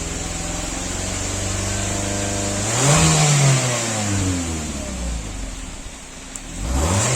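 An all-new Nissan Livina VL engine after a Blackcore installation idles, then one quick throttle blip rises and is released back to idle, with another rise starting near the end. The engine is close and loud, with no talking.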